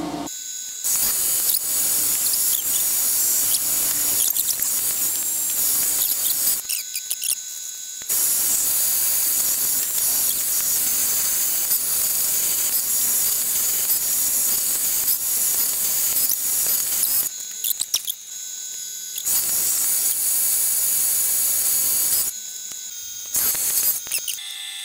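A larger-diameter drill bit boring into metal, a loud high-pitched whining hiss in long stretches, broken by a few brief pauses where the drill stops, with no talking.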